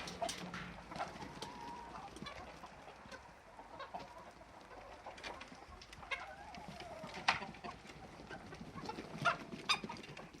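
Leghorn hens clucking and calling inside a backyard coop, a steady chorus of overlapping bird sounds with occasional sharper squawks rising above the din, fairly close and continuous throughout.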